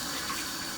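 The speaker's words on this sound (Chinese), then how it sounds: "我们把个肉洗了哈" Pork being rinsed under a running tap, a steady close hiss of flowing water filling the short moment without pause.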